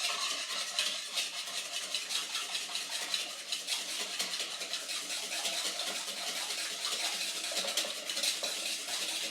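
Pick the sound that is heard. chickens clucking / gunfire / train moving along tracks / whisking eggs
whisking eggs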